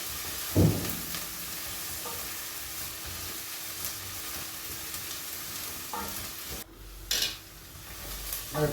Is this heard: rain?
no